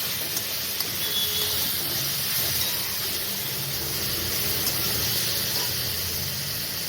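Garlic paste is stirred in a frying pan while cooking begun morola mach, an eggplant and small fish curry, giving a continuous, close hiss of sizzling that stays even from start to finish.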